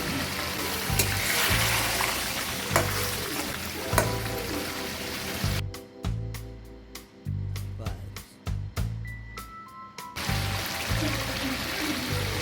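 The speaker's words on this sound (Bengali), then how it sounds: "আলুগুলো মাংসের সঙ্গে একটু কষায় নিচ্ছি" Potatoes and chicken meat fry together in a pan, with sizzling broken up by repeated stirring and scraping knocks, loud and close, and a brief quieter stretch midway.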